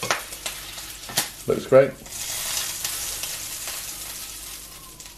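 Home-cured bacon frying in its own fat in a pan: a few utensil clanks and scrapes, then a steady close sizzle, with a brief spoken remark.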